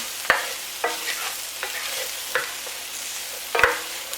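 Sausages sizzle in a pan for curried sausages while being tossed and stirred, with a handful of sharp utensil scrapes and knocks over a continuous frying hiss, close by and with no talk.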